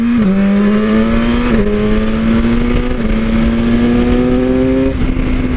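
A BMW S1000RR motorcycle on the move with a somewhat lulling throttle response; its loud, close engine note climbs steadily and steps down at several gear changes along the way.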